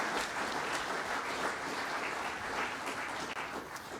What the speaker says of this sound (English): I bet a big round of applause